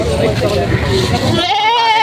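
Goats bleat at a livestock market in Padre Garcia, Batangas, a loud close wavering cry rising clearly near the end over busy crowd chatter and talk.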